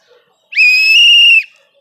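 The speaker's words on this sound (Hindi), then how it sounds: "क्या आप सीटी बजा के आप किस किस को भगाएंगे?" A single loud whistle blast, steady and shrill, held for about a second and heard alone against near silence.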